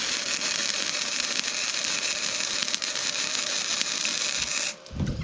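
Welding forged bits onto Viking stock tongs, a continuous crackling buzz that holds steady for most of the clip and then cuts off near the end, with no talking.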